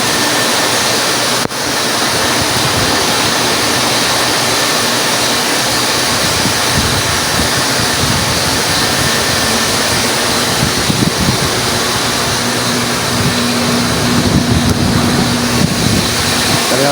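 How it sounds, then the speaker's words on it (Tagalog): Strong typhoon wind and heavy rain (Typhoon Karina) roar steadily outdoors near a house, a loud, dense broadband rush with gusty swells and no speech. "Tamang hangin, at malakas na ulan guys."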